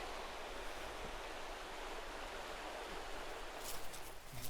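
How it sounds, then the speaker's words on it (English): A river burbling past along a hillside trekking route, a continuous broadband rush of flowing water, steady and moderately loud with no voices. "you'll doze off because of the sound of the river burbling past"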